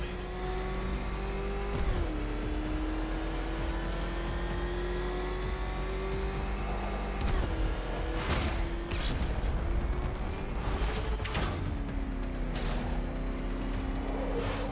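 A car engine races in the Batman Arkham Knight video game, a loud steady roar with rising and falling revs and gear shifts, bursts of tire and impact noise toward the end, with no voices.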